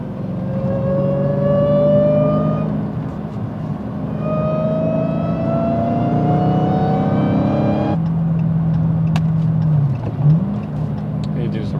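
A manual Dodge Hellcat on the highway hums with an engine note that climbs steadily in pitch, cuts off abruptly, then gives a quick rev-matching blip on the downshift.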